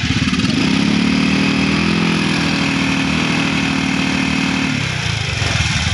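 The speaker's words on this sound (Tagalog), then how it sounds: "Pag binibirit natin, lagot-lagot yung kanyang andar." A motorcycle engine with a misfiring fault is revved up and held high, running roughly with a stuttering, uneven rhythm before dropping back; loud and close, no talk.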